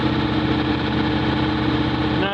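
Steady idle of a Miller Legend 302 welder's engine, a continuous even running drone that holds level throughout, close and fairly loud, with no talk over it.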